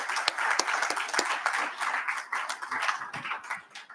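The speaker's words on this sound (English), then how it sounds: "Please give a round of applause to our panelists" Close, lively clapping from a dinner audience after a panel discussion, with individual sharp claps standing out in an uneven, steady round of applause.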